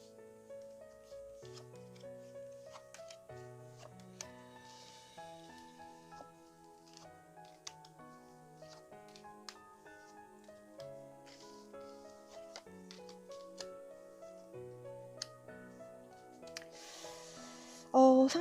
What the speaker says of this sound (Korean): 카드 정리하고 카드 오픈하겠습니다.